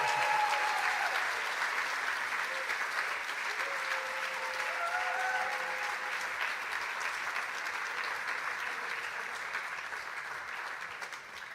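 An audience at a business plan final applauds the competing teams with steady, dense clapping that fills the whole stretch and fades slightly toward the end, with faint voices underneath.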